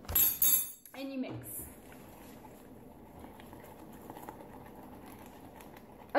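A spoon mixes flourless protein mug cake batter sweetened with stevia in a bowl, opening with a burst of loud clinks against the dish, then settling into faint, soft stirring.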